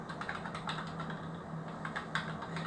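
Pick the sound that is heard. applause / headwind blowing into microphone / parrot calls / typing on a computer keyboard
typing on a computer keyboard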